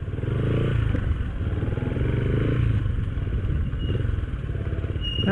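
A motorcycle engine drones steadily nearby, with rattling and scraping from a rough trail near a cave as it rides along.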